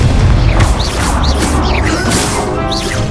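Confringo fire spell explosions in the Hogwarts Legacy video game, loud booming crashes and whooshes layered in rapid succession over a continuous rumbling battle din.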